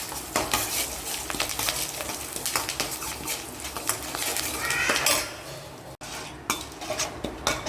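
Amaranth greens frying in a home kitchen pan with chili and turmeric, a steady close sizzle under repeated clinks and scrapes of a utensil stirring against the metal, with occasional sharper knocks.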